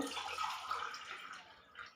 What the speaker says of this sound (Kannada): ಇವಾಗ ಇದಕ್ಕೆ 3 ಲೋಟ ನೀರು ಹಾಕ್ತಾಯಿದ್ದೀನಿ